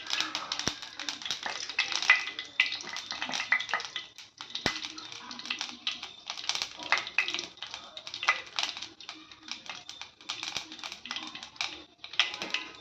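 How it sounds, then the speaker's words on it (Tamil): Fennel seeds fry in hot oil for a quail gravy, making a steady, close, crackling sizzle dotted with sharp little pops throughout. "சோம்பு நல்லா பொரிய விட வேணுங்க"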